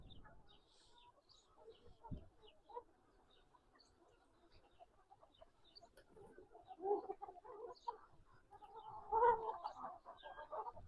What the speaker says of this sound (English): It's a lot of chickens.